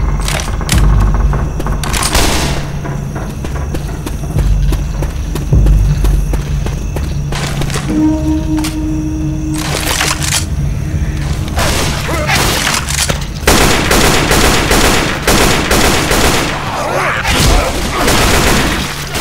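Game gunfire and explosions from Left 4 Dead 2 fill the scene: repeated loud booms and bursts of shots over dense, busy action, with thuds and crashes throughout and brief voices calling out.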